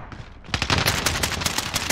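Rapid gunfire from another player in Warzone, a burst of sharp repeated shots starting after a brief quieter lead-in and continuing steadily at moderate distance.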